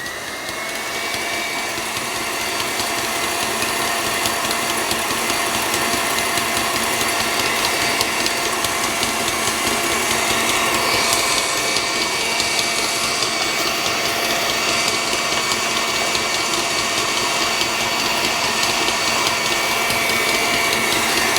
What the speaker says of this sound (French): Et je rajoute le dernier tiers de sucre et je mets le batteur à vitesse